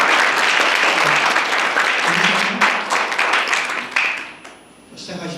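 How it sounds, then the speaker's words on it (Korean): Audience clapping fills a university mechanical engineering event hall before a UN Environment Programme speaker's talk, a dense sustained applause that thins and fades near the end. "큰 박수를 쳐주시면 얼마나 많이 모여있는지 알"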